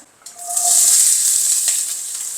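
Fennel and mustard seeds frying in hot oil give a steady, bright sizzle that swells quickly and then holds close, with no voices.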